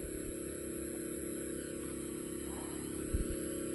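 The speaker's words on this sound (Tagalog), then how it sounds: "Kailangan talaga itodo yung makina." A water pump engine at full throttle beside rice paddies, a steady loud droning roar that holds constant throughout with a brief knock near the end, no talk.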